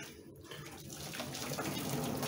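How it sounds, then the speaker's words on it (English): Cold tap water gushes steadily over cooked Brussels sprouts in a kitchen, a continuous rushing flow that builds slightly in strength and stays close and fairly loud. "we put them in some cold water, cool them down"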